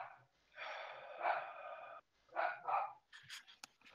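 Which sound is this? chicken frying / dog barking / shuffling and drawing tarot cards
dog barking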